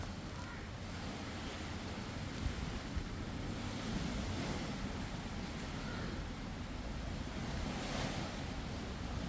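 Sea waves wash onto the shore in a steady, broad roar that continues throughout, with gusts of wind buffeting the microphone and no voices.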